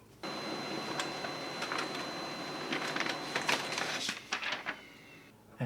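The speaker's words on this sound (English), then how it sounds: "This old laser printer by USB." An old USB laser printer running, a steady mechanical whir with a faint whine and scattered clicks and thumps of paper feeding, ending abruptly, close by with no talk.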